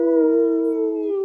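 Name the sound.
voice imitating a wolf howl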